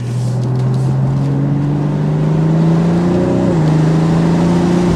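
A 2024 BMW Z4 M40i sports car engine drones loudly and steadily, its exhaust note climbing gradually in pitch as it revs up, close and continuous.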